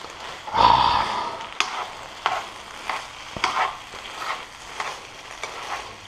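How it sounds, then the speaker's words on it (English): Bacon fried rice with eggs being stirred in a hot pan, a close sizzling bed broken by several distinct scraping strokes of the utensil at irregular intervals. "And now we're going to stir that in."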